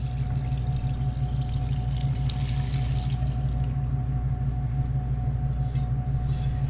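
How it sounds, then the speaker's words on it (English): Ramen stock, a broth made from bones, poured through a fine strainer, giving a continuous loud, close liquid stream with a low rumbling body and a steady tone throughout, with no talking. "what I'm going to do is just pour the stock through a fine strainer"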